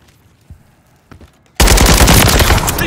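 A sudden, loud burst of sustained automatic gunfire from a Call of Duty Modern Warfare III team deathmatch match erupts after a near-silent stretch with a few faint thuds, then carries on without a break to the end.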